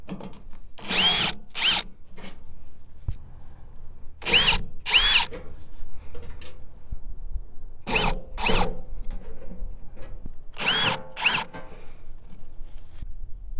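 A power drill backs screws out of an old mailbox in four pairs of short, loud whirring bursts, each separated by a brief quiet pause.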